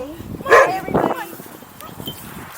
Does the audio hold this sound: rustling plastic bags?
no